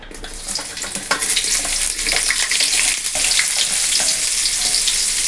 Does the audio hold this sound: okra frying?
yes